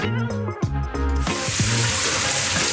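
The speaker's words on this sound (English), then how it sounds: "And the rain shower, oh my God. Check it out. 3 settings." Water from a hotel rain shower head starts gushing into a steady, hissing spray after a moment of music-like tones, running continuously and close.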